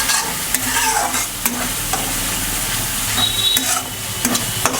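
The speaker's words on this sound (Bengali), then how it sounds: "একটু জল দিয়ে মশলাগুলো ভেজে নিচ্ছি" Whole spices frying in a pan with a splash of water for a katla fish curry with taro stem, a steady close sizzle broken by repeated scraping stirs of a spatula, with no talking.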